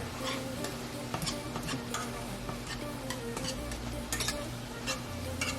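Seasoned ground turkey is stirred in a hot pan, a dense continuous sizzle with rapid ticking scrapes and clinks of the spoon against the pan throughout.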